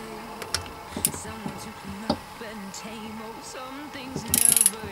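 Ratchet wrench tightening engine bolts on a Suzuki RF 1100 motorcycle, with clicking mechanical bursts and scattered metallic ticks at close range, a sharper clatter near the end.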